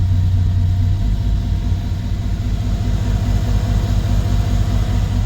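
A Mercedes CLS550 sits in reverse with its wheels turning, giving a loud, steady low engine rumble and drivetrain hum that holds constant throughout without revving.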